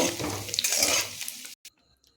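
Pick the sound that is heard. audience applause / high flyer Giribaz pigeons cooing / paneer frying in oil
paneer frying in oil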